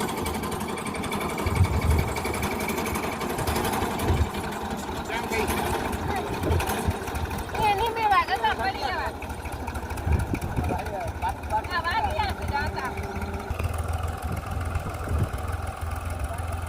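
Tractor pulling a peanut seed planter in a farm field, giving a steady close mechanical drone with a fast rhythmic clatter throughout, and voices briefly heard over it.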